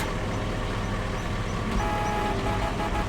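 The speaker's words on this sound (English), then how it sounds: "Horn was good." A Chevy truck horn in Farming Simulator 25 sounds steadily over a dense engine rumble, loud and continuous throughout.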